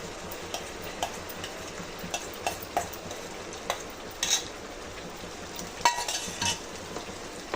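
Semolina (rava) being stirred into halwa cake batter, faint scattered clinks and taps of a spoon against the bowl over a quiet hiss, close and without speech.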